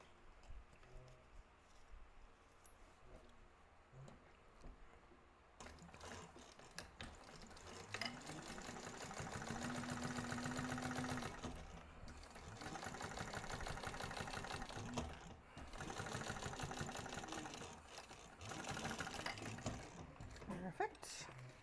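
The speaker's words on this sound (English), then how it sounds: "top stitch on the lining" A sewing machine top stitches a bag lining for a crossbody bag, running in steady bursts of rapid mechanical stitching with brief pauses between runs, fairly loud and close, with light talk and handling sounds at the start.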